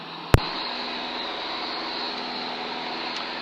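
A Vans RV light airplane's engine drones loud and steady inside the cockpit during the climb, with a sharp click near the start and no talking.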